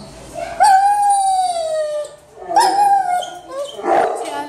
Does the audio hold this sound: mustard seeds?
no